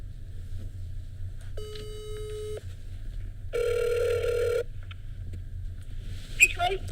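A phone call rings out in two bursts: a steady electronic ring tone, then a brighter, louder second ring, over a low constant hum in a room.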